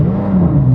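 A very loud car engine revs inside a garage, a brief, heavy, droning low rumble with a slight pitch sweep, captured up close.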